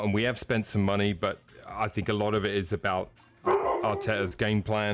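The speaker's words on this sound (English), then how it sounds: "That's the dog barking." Household dog barking a few times in the background under continuous close conversational talk.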